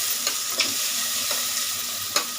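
Onions, potatoes and chicken stirred in a frying pan over sizzling oil, a constant hiss broken by a few distinct scraping clicks of the spatula, close up with no talking.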